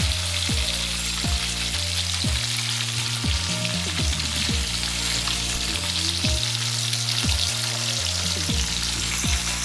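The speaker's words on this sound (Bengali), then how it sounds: "দেখুন বন্ধুরা আমার তেলটা গরম হয়ে গেছে আমি মাছটাকে ভেজে নেবো" Loud, continuous sizzling of rohu fish frying in hot oil, a dense crackling hiss that never lets up, with music playing underneath.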